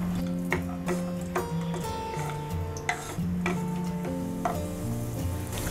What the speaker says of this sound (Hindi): किशमिश फूलने तक हम फ्राई करेंगे।